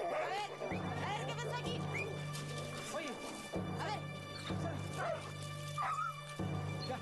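Dogs yelp, bark and whimper amid scuffling and crashing, a chaotic close-range commotion, with people's voices talking over parts of it.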